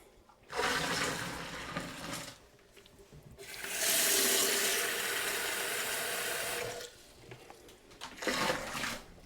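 Tap water running into a plastic brewing bucket, several bursts of gushing flow separated by short pauses, with one longer, brighter stretch of splashing in the middle; no one speaks.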